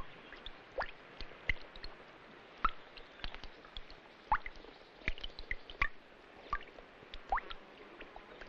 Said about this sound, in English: The monsoon rains overflow from the gargoyles. Water collects in puddles on the terraces